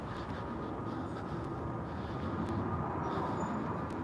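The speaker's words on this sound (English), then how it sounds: "Literally just walking through a train station to get where I'm going." Busy train station walk-through: a dense, steady wash of crowd murmur, footsteps and reverberant hall noise, with a few faint clicks and distant tones, no close voice.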